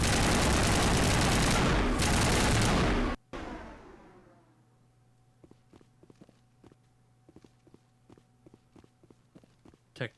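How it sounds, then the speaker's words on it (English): Assault rifle gunfire in the video game Mass Effect, a loud dense burst filling the first three seconds, then cutting off to a quiet stretch of scattered soft taps and clicks. "We'll use the assault rifle."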